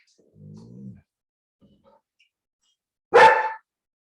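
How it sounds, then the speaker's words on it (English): A dog gives a low whine or growl, then after a pause lets out a single sharp, close bark in an otherwise quiet room. "Look, I have everybody else barking"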